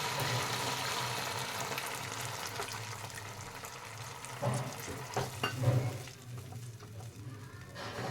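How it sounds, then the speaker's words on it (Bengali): Spice paste for doi katla fries in hot oil with a loud, steady sizzle, then a small amount of water goes into the pan, causing a burst of hissing and spattering before the sound settles to a quieter simmer. "এবার আমি অল্প পরিমাণ মতন জল অ্যাড করে দেব।"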